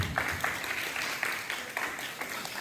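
Applause from an audience at an inter-school poem recitation competition, a dense wash of many hands clapping at moderate volume, steady throughout with slight swells.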